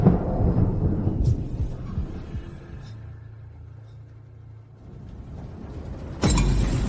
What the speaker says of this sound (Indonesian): Kok tiba-tiba ada petir?